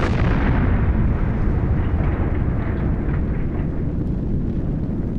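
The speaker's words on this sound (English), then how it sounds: "an unexpected power spike caused a series of huge explosions" A dense, continuous roar of reactor explosions at Chernobyl rumbles throughout, loud and heavy with deep low-end thunder and no pauses or voices.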